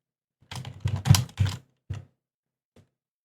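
Computer keyboard typing, a short close burst of loud key presses in quick succession, then a couple of sparse final taps, with silence around them.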